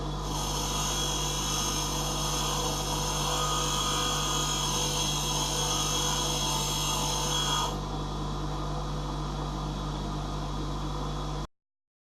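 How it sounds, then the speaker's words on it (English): A bench grinder and a sanding disc bevel a drill bit shaft with a steady, loud motor whine and abrasive hiss that holds constant, changing tone partway through before cutting off abruptly. "First I create a rough bevel on the bench grinder, and then I move to a sanding disc"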